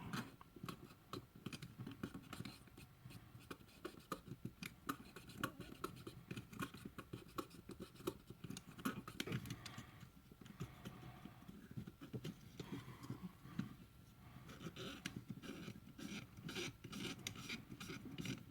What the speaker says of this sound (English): You can see I can scrape the dirt off that one.